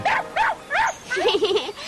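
A puppy playing with an elephant gives three short, high, bouncing yips in a row, followed by a longer wavering whine, close and fairly loud.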